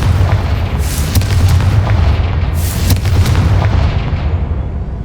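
Bombarda and Confringo spells blasting in Hogwarts Legacy, a loud, continuous barrage of booming explosions with deep rumbling low end and several sharp cracking bursts, no talking.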